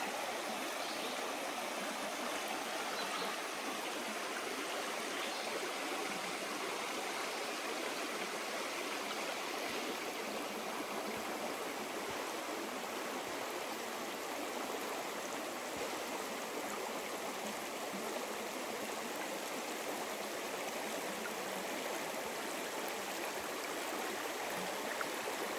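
A creek on the Appalachian Trail flows steadily with a soft, constant rushing and babbling, quiet and unbroken throughout.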